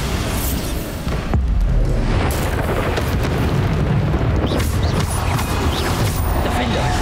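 Bombarder spell explosions in the Hogwarts Legacy video game, a dense, continuous roar of booming blasts and magical impacts mixed with combat effects, loud and sustained throughout.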